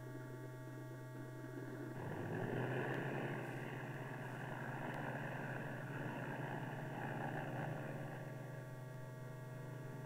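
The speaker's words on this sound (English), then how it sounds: "the transport towed the glider into position for the takeoff run" A C-47 Skytrain transport plane tows a troop glider into takeoff position in 1942 wartime footage, its engines droning steadily and swelling after a couple of seconds over a constant electrical hum.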